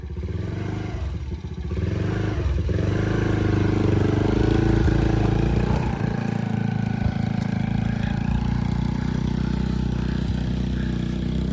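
A small farm motor vehicle's engine runs steadily at about half throttle, a loud, close, continuous mechanical drone with some clatter, alone without talk.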